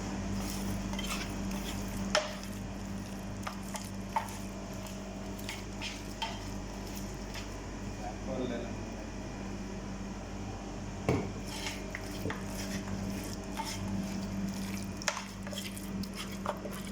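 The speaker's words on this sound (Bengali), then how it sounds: "এবার ভালো মতো মিক্স করতে হবে।" Lamb chops being mixed by hand with a marinade in a kitchen bowl, soft squishing and scattered clinks of dishes and utensils over a constant low hum, no talking.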